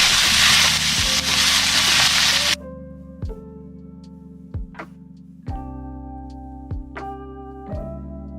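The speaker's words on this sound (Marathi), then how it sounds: "याला छान हलवून घेतोय." Masala Maggi noodles seasoned with salt sizzle loudly in a pan for a couple of seconds, then the hiss drops away, leaving sparse clicks and scrapes of stirring over a steady tonal hum.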